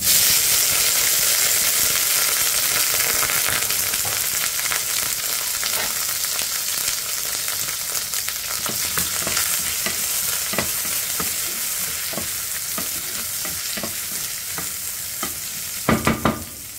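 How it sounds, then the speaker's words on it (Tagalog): Garlic and onion sizzle and fry in a pan for a vegetable sauté, with steady hissing, scraping stirs and occasional clinks near the end. No voices are heard. "Gisa muna tayo ngayon."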